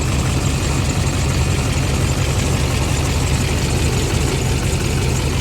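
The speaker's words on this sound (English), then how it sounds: "Got our belt sounding terrible." A vehicle engine idles steadily with a bad-sounding belt, a constant dense rumble and hiss that stays level throughout with no talking.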